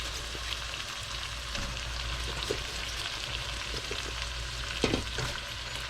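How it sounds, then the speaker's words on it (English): Cabbage goes into a hot pan for Southern-style smothered cabbage and fries with a steady, dense sizzle and crackle, plus a few stirring knocks and one sharper clatter near the end, close up with no talking. "Now this is where we're going to add all the cabbage."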